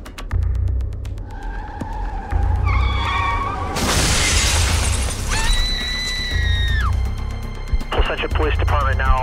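A staged drunk-driving car crash: a loud burst of shattering glass and impact noise breaks through steady engine rumble, with brief squealing tones and scattered clatter before and after, close and harsh.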